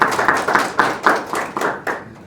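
Audience clapping at a talk, several rhythmic bursts of handclaps from a smallish group, fairly close and loud, fading at the end, with no speech over it.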